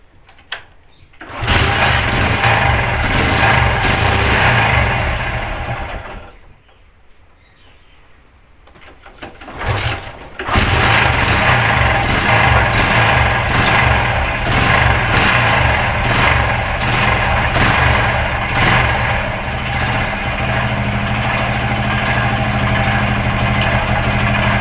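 Honda Splendor Plus motorcycle with a fault in starting, heard being cranked, catching briefly, dropping out, then starting again and settling into a loud, steady close-up idle.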